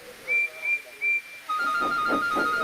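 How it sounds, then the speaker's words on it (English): A high, thin whistle sounds in several short toots, then a longer steady whistle plays over a rhythmic chuffing. "He whistled loudly at every station."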